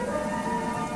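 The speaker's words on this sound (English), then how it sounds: "What a heavy rain!" Heavy rain pours down in a dense, steady hiss, loud and close, with no pauses or other sounds.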